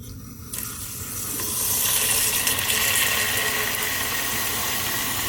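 Water runs steadily over dry pinto beans being rinsed and sorted in a sink, a broad continuous rushing that swells after the first second and stays fairly loud and even throughout.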